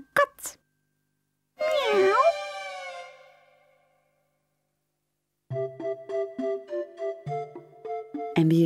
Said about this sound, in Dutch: Ik ben een kat.